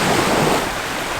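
Waves break on a beach along a coast with a town in the distance: a steady, loud wash of surf with wind rush, no voices.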